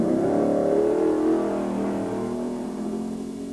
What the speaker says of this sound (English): this is a Holden 308 V8, sounding like it's quite highly modified, but certainly with a beautiful, healthy roar